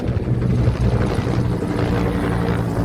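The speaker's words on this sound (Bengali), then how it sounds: "একটা হেলিকপ্টার যাচ্ছে।" A helicopter passes overhead under a cloudy sky, its rotor producing a steady, loud, low throbbing drone throughout.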